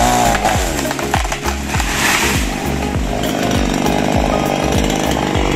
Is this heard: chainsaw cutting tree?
yes